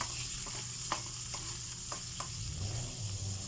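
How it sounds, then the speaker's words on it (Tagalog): Squid adobo with tomatoes is stirred in a hot pan, a soft steady sizzle under repeated scraping strokes of the spoon against the pan, quiet and close. "Halo lang po mga loves para hindi masunog yung mga sangkap natin"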